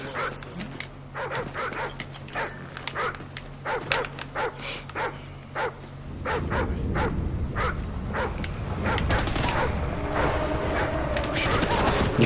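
A dog attacks in Call of Duty Ghosts, barking repeatedly and aggressively over gunfire and game noise. The barks come in rapid bursts, and the background grows louder and denser partway through.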